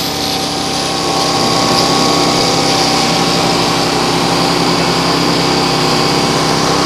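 A used Honda generator runs loud and steady at high pitch while powering an electric drill, giving a constant close mechanical drone with a faint whine on top and no talk.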